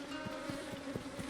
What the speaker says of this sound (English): Let's avoid the bees.